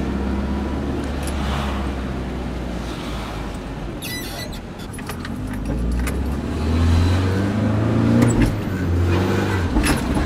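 A Nissan 240 with no turbo accelerating, the engine rising and building in a steady rumble close by, with some jangling and rattling over the drone.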